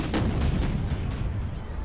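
A firecracker bursts in the video game Bad Guys At School, heard as a dense, loud crackling blast with rapid pops and a rumbling tail that fills the whole moment, with no voices over it.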